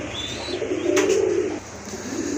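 A single soft, low coo from a Rajgolla pigeon, close by and alone, over faint background hum.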